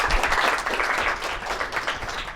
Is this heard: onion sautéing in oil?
no